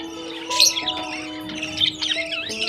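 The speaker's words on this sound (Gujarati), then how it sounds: "પોપટ છે એના બચ્ચાને સણ પણ દે છે" Busy parrot chirps and squawks at a nest with chicks overlap in a steady chatter, several calls rising and falling close by, with no voices.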